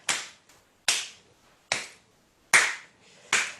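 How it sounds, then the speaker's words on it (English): Hands clap sharply forwards in a yoga exercise, five crisp claps at a slow, steady rhythm with quiet gaps between, close and clear. "we can do this one, which is a really good one, where we clap forwards"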